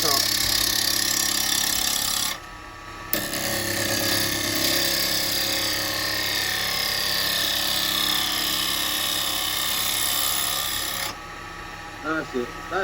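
A small bowl gouge makes an upcut on a yew bowl spinning on a woodturning lathe. The loud, continuous rasping cut drops out briefly twice as the tool is lifted, then resumes over the lathe's steady hum.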